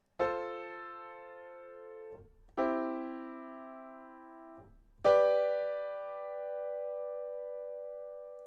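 Three sustained piano chords, each struck firmly and left to ring for about two seconds before the next, played alone with no talking.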